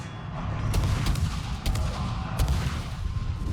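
Rapid gunfire rattles through a video game battle against a Cossack unit, dense volleys with sharp repeated shot bursts and booms filling the scene, loud and continuous with no talk.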